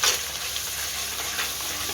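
Ground coconut masala paste fries in a pan with a dense, even sizzle while a spoon stirs it, a loud close crackle that runs through the whole stretch without talk.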